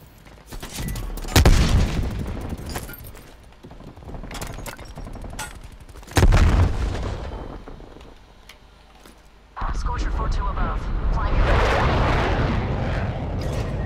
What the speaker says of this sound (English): Napalm on target.